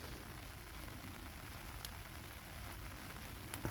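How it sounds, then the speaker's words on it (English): Rain falls outdoors at night on a wild camping site, a steady, even broadband patter with faint isolated drips, continuous and fairly soft throughout, with no voices. "that'll be that scheduled rain for 2 o'clock in the morning"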